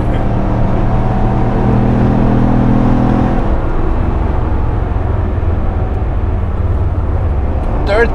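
A Corvette C6 Z06 with a dead RPM gauge pulls hard through the gears, a loud, steady engine roar whose low droning tone changes partway through as the gear shifts, continuing at high volume to the end.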